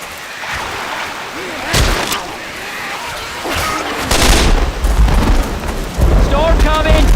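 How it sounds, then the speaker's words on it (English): Rain pours steadily during a thunderstorm in Left 4 Dead 2, broken by several loud, close thunder cracks and rumbles. Game voices and other effects break through the storm. "it's really storming"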